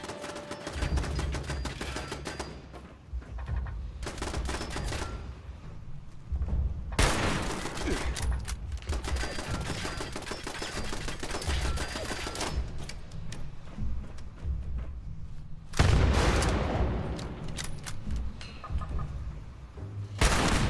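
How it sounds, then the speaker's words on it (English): A gun turret firing in the video game Fallout 76, with long stretches of rapid rattling fire broken by short pauses. Booms and clatter from the game run underneath, and a voice speaks briefly. "I think I hear another turret though"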